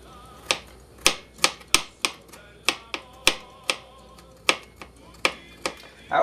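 A knife slices and dices three large garlic cloves on a cutting board in a home kitchen, giving sharp, close, evenly spaced chops with short pauses between strokes.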